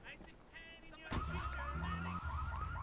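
Car alarm going off in the video game GTA III, a loud repeating warbling whoop that starts abruptly about a second in and keeps cycling steadily over a low engine-like drone.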